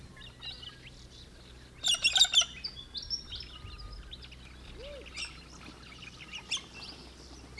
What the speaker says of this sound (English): Various parrots are the most spectacular of the morning's visitors